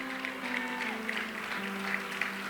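A church congregation applauds in praise of the Lord, steady dense clapping throughout, with sustained tones of music or singing underneath.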